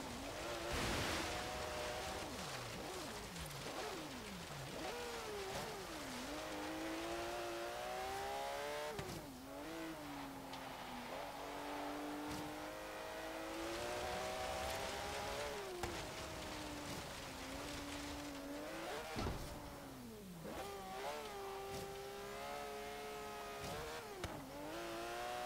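Engine of a 1973 Porsche 911 Carrera RS in a Forza Horizon autocross, revving hard and constantly rising and dropping through gear changes and throttle lifts, loud and continuous with tire scrub underneath.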